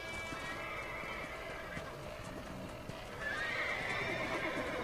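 Horses whinny and neigh with hooves clopping in the Red Dead Redemption video game, a shrill neigh rising near the end over a steady busy background.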